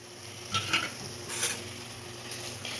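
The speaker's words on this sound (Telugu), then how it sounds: "ఆనియన్స్ ఫ్రై అయినాయి కదా, ఇప్పుడు బోడ కాకరకాయలు చేసుకొని పెట్టుకున్న బోడ కాకరకాయలు" Spiny gourds fry with onions in a pan, a soft steady sizzle broken by a few stirring scrapes and clinks of a utensil against the pan.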